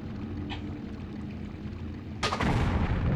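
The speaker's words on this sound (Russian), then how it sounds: "давай я потрачу одну такую взрывную стрелу" An explosive arrow in the video game Tomb Raider IV lands with a sudden, loud, booming blast that rings on over a low rumbling game ambience.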